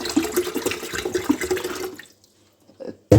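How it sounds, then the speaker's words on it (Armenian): Water pours out of an emptied kettle in a splashing, gurgling stream for nearly two seconds, then stops, followed by a brief faint trickle and a sharp knock at the end. "Դատարկա թեյնիկը"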